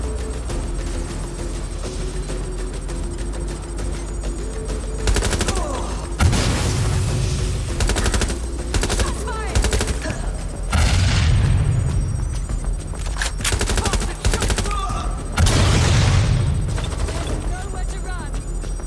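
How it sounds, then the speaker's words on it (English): Gunfire from an online mission in the video game Watch Dogs Legion, with repeated loud bursts and booming shots breaking through a steady game backdrop of music and voices. "Incoming fire!"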